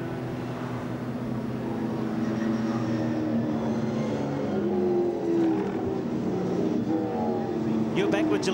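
V8 SuperTourer race cars at Hampton Downs under safety car conditions rumble past with steady engine drone, while a commentator talks over them.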